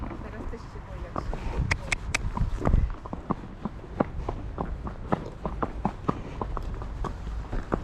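Horse hooves walking steadily across the painted stripes of a road crossing, a regular clip-clop of moderately loud, evenly spaced hoof strikes, with some rustling and wind noise and brief talk in the background.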